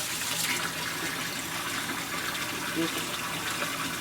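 A kitchen tap pours hot water in a continuous, even gush, close and moderately loud, holding steady for the whole stretch.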